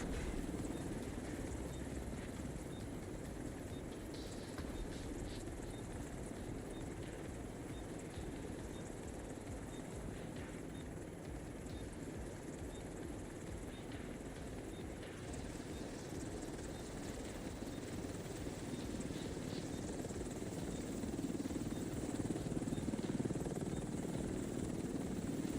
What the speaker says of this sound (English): Extraction complete. Helo is headed back.